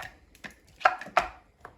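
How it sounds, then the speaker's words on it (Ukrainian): Several sharp knife chops on a board, cutting pepper into small pieces, close and uneven in rhythm, with quiet gaps between strikes. "Нарізаю ось так такі дрібні шматочки."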